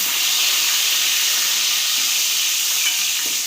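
Green chillies and curry leaves sauté in hot oil for a crab gravy, producing a loud, continuous, close hissing sizzle with no pauses.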